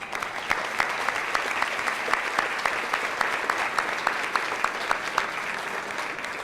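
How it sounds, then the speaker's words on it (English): An audience at a county address gives steady applause to new chamber members, many hands clapping together in a dense, even patter that holds at a fairly constant level throughout. "We'll clap for you one more time"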